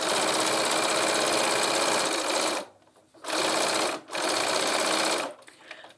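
Sewing machine stitching a lined tote bag, running in a loud, fast, close mechanical whirr, pausing briefly twice before starting again, with no talking.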